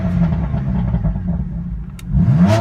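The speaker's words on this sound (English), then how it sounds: "the sound of this car with the pops and the bangs" A BMW M4 Competition engine revs hard, the raspy exhaust roar swelling near the end with a quick crackle, close and loud with no talk over it.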